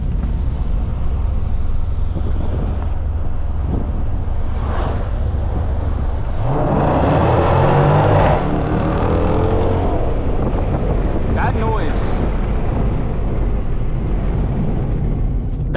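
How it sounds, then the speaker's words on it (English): A Jeep Grand Cherokee SRT with a Borla ATAK exhaust revs up on a downshift in track mode, rising to a loud roar with popping exhaust crackle amid strong wind rush, echoing under a bridge. "we're gonna do a little downshift in track mode under this bridge here"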